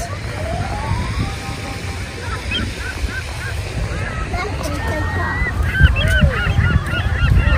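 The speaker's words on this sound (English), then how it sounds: "There goes the duck." Geese or ducks honk and call repeatedly at a park pond, close by and fairly loud, under steady outdoor background noise, with people talking at times.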